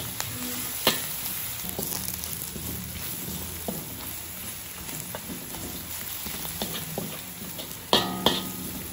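Garlic frying in oil in a pan, a close, continuous crackling sizzle with occasional sharp pops and the clatter of stirring utensils.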